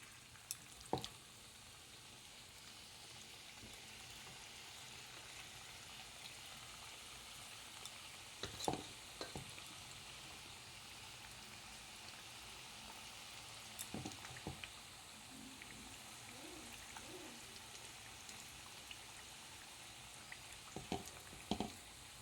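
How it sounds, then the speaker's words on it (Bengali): Chili chicken pieces fry in oil with a soft, steady sizzle, punctuated by a few sharp clinks and stirring knocks from a utensil, fairly faint and close. "বাকিটা যেগুলো আছে আমি এক এক করে সব ভেজে নেবো"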